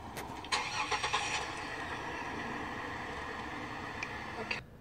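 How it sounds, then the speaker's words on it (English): A 2004 GMC Envoy cranks briefly and fires up, its engine catching with a few uneven revs before settling into a steady idle, heard close and alone, then cutting off at the end. "Two thousand and four GMC Envoy."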